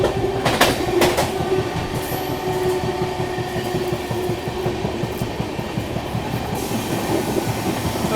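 The AP Express from Visakhapatnam to New Delhi runs past Bina Junction with a loud, steady rhythmic clickety-clack of wheels over rail joints, heard from inside the train.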